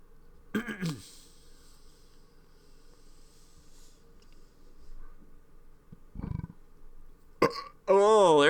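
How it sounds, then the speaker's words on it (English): A single loud belch bursts out near the start, followed by throaty noises, occasional mouth sounds and a harsh distorted burst at the end, with chatter from a gaming livestream around it. "Oh, there's a belch."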